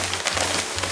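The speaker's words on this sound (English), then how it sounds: "it's currently raining outside" Steady rain falls outside as a brief, even hiss of drops, with a low hum underneath and no talking.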